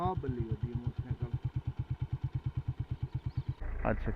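A motorcycle engine idling on a stony forest road, loud and close, with a steady, rapid thumping pulse that cuts out near the end. Someone talks over it.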